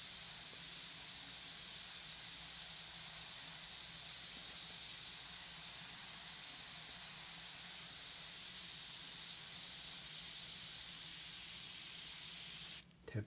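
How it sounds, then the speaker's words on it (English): Steady, even hiss of an airbrush spraying paint for an out-of-focus background, constant and close for about thirteen seconds before cutting off abruptly at the end. "I'm far away with the airbrush, so I'm trying to create the shapes I see"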